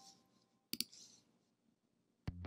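Sharp mouse clicks on a web application form: a quick double click near the start and a single click near the end, close and distinct over a quiet room.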